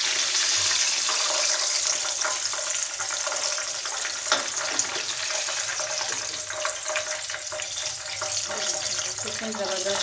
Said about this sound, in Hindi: हम बाकी भी ड्रम स्टिक्स जो हैं उन्हें भी इसी तरह फ्राई कर लेते हैं